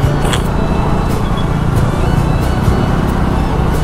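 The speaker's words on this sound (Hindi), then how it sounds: "तो सुबह सुबह का ट्रैफिक आप देख सकते हो रांची में" Morning road traffic in Ranchi, a loud steady roar of passing cars, motorbikes and engines up close, with faint horn-like blips near the start.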